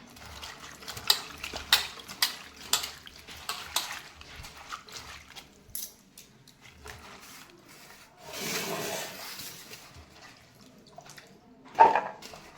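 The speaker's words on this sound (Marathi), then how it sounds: "त्याला आता चांगलं स्वच्छ पाण्यातून धुवून घेतलेलं आहे" Cauliflower florets being washed by hand in clean water in a home kitchen: scattered splashing, rubbing and clinking with a louder sloshing stretch near the end, close and fairly quiet.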